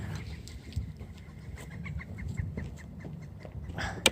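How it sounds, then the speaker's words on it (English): Bird calls outdoors, fowl-like clucks and chirps scattered over steady low background rumble, with a brighter, louder call near the end. "Even the birds are laughing at me."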